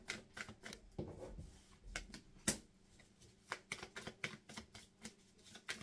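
Tarot cards shuffled by hand before a reading make a series of quiet, crisp riffling snaps and flutters in an uneven rhythm, close up, with no speech.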